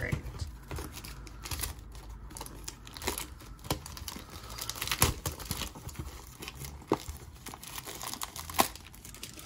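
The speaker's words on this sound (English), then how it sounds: "now we're going to pop this blaster box open and see what we can get out of this one" Crinkling, tearing plastic and cardboard as a Topps Heritage baseball card blaster box is opened, a quiet, close series of irregular rustles and crackles.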